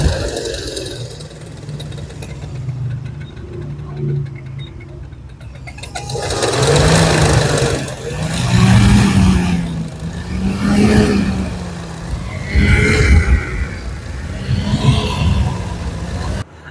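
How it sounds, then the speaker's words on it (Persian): Grinding, whirring noise from a faulty car radiator fan motor, with a rough, pulsing drone that swells and fades several times, close and loud, with no talking. "معمولا موتورفن‌های خراب صدای خر میدن."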